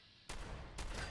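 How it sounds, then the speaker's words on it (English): Gunfire from an enemy shooting fire rounds in Fallout 76 comes in two sudden, loud bursts of crackling, rapid shots close by. A short lull separates the bursts, with no other sound between them. "This thing is shooting me with fire rounds."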